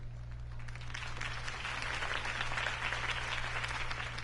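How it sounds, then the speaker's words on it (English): A crowd at a Harvey Dent campaign rally in the Batman Telltale Series applauds steadily, a soft, distant wash of clapping that swells slightly toward the end. "If only Mr. Wayne, my campaign's largest backer, could have heard that applause"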